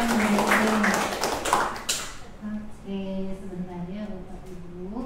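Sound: audience applause for Bu Desri

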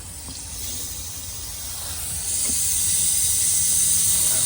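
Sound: compressed air pressurizing a Volvo cooling system

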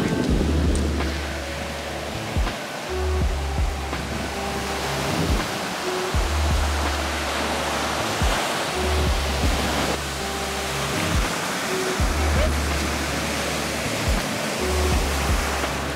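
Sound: waves at a foggy beach

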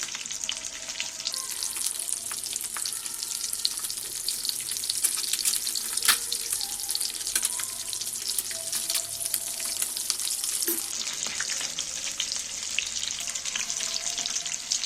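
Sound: eggs frying in oil, being flipped

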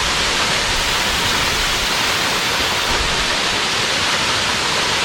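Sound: Uçansu waterfall rushing water

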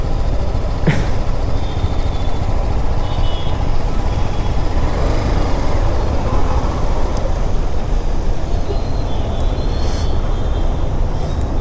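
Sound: road traffic noise while riding a BMW 310GS

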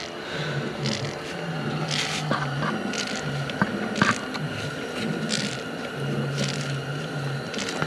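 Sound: pumping primer ball to bleed Kubota engine fuel system

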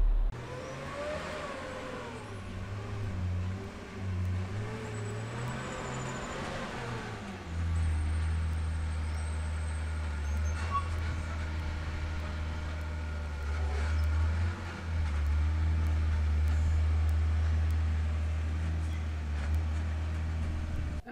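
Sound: truck backing up and turning around

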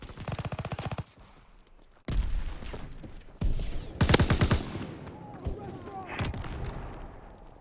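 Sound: shotgun fire in the video game Prop Hunt

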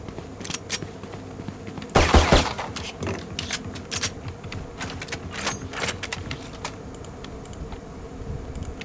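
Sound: sniper rifle shots in video game Valorant

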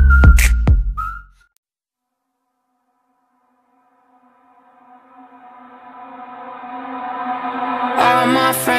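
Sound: whistling imitating a falling missile

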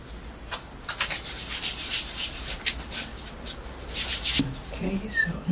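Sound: polishing a painted surface by rubbing

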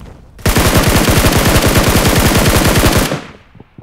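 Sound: gunfire in PUBG Mobile video game, SCAR-L shots

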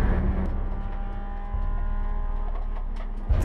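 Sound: Mercedes SLS race car driving on track

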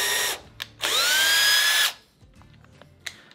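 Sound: power drill pre-drilling screw holes in wood frame

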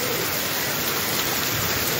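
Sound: hailstorm falling

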